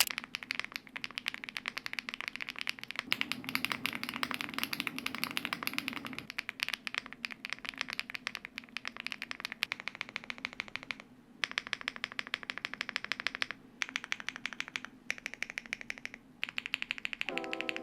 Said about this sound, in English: what separates this keyboard from every other keyboard is how it sounds.